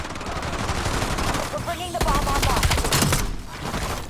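Rapid, dense automatic gunfire from Black Ops 7 rattles continuously and loudly, with sharp bursts layered over game noise and a player's voice talking throughout.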